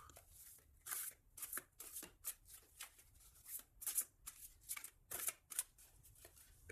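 Tarot cards are shuffled and cut by hand. The quick riffling and crisp slapping bursts come in an uneven rhythm, close and fairly faint, with no talking.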